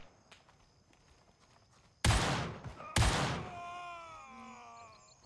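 Two loud gunshots from a rifle in the military shooter Gray Zone Warfare, spaced about a second apart, each with a long echoing tail over quiet footsteps and faint background ambience.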